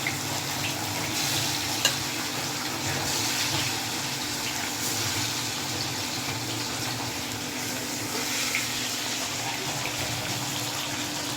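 Kebabs deep fry in oil deep enough to submerge them, producing a continuous, even bubbling hiss that stays close and steady throughout, with one small knock early on.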